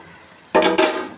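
Metal lid set on a cooking pot while prawn biryani masala cooks, two quick ringing clanks close by with a short metallic shimmer.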